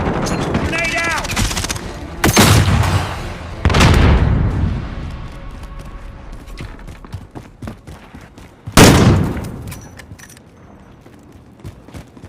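In a team deathmatch shooter video game, a grenade goes off amid scattered gunfire, with several sharp, booming blasts standing out over continuous battle noise.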